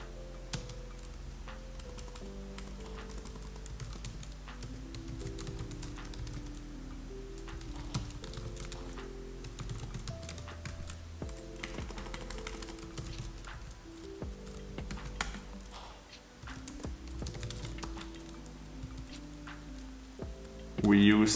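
Computer keyboard typing while code is written, a rapid run of light clicks sitting beneath steady background music and a voice talking throughout.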